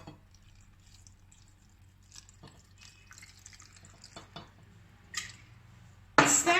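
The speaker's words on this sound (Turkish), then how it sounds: "Üzerine normal suyla tamamlıyorum." Water poured into a jar of pepper and cucumber pickle brine: faint handling and small clinks give way to a sudden, loud splashing pour near the end.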